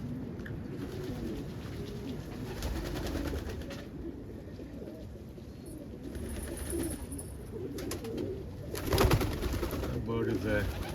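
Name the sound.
pigeon cooing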